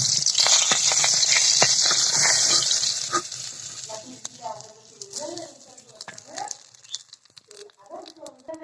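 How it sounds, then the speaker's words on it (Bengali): Loud hissing sizzle of fish roe frying in a pan fills the first few seconds, then fades as quieter clatter and a person's voice take over. "এখন আমরা এই কাল্লাটা সুন্দর মতন ভেজে নেব"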